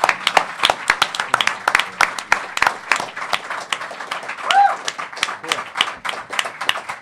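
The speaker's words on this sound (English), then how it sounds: "Maybe a round of applause," A theater audience at a comics publisher's summit gives a round of applause, with sharp, close hand claps scattered over a fuller crowd clapping that lasts the whole stretch, plus a brief whistle partway through.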